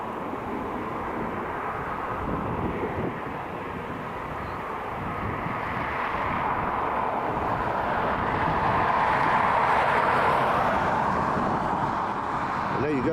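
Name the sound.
retro-liveried Airbus A320 taking off from Dublin Airport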